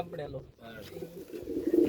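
Racing pigeons coo softly nearby after landing at a loft during a race, low throaty murmurs, while a person talks quietly in the background.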